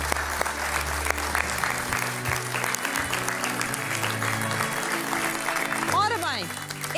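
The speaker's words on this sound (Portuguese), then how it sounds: "Um grande aplauso." Studio audience applause on a Portuguese afternoon TV talk show, a dense steady clapping close and loud throughout, with voices speaking over it.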